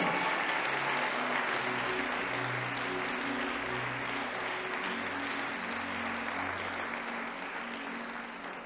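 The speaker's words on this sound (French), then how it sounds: "Est-ce que quelqu'un peut acclamer Jésus-Christ de Nazareth?" A church congregation applauds and cheers for Jesus Christ in a French-language service, a sustained wash of clapping from a large crowd lasting several seconds, with faint held tones underneath and a slight fade toward the end.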